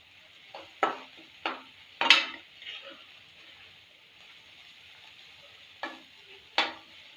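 Onion masala for prawn masala frying and being stirred in a pan, heard as a soft background sizzle broken by several sharp scraping stirs that come in irregular bursts.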